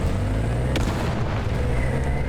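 Heavy proximity-fuse shell blast in War Thunder, firing from an AuF1 self-propelled gun: a deep rumbling boom with a sharp crack near the middle, rolling low-end thunder sustained throughout, loud and close.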